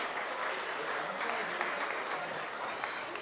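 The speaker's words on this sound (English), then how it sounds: "Another big round of applause for grade 8," An audience at an Islamic center gathering gives a big round of applause for grade 8 students, steady brisk clapping throughout, with some voices mixed into the crowd noise.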